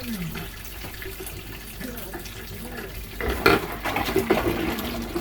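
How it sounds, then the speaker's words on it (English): Hot water runs from a tap with splashing and clinking as jars and lids are scrubbed, getting louder and busier in the second half. "I wash them in the hottest water that my hands can bear"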